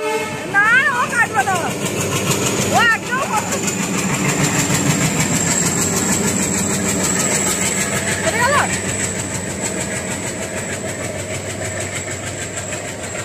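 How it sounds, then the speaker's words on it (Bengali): A train passing close by, a loud continuous rumble and rattle of wagons throughout, with sharp horn-like toots and people talking over it. "ট্রেনটা পিছনে চলে এসছে"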